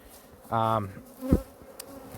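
A steady buzz of honey bees at a caught swarm sits under a short, loud, pitched hum and a brief knock, all at close range.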